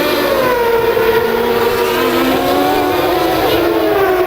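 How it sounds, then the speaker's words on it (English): Hakkinen's McLaren Formula 1 car sounds loud and continuous during a pit stop as its high-pitched engine note slowly sweeps upward, with steady crowd and track noise beneath it. "as you see Hakkinen pitting"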